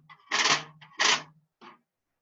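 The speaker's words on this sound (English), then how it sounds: "when I just played it, the snares were on." Two crisp, buzzy snare drum hits with the snares on, a rattling wash close by, followed by a softer short tap.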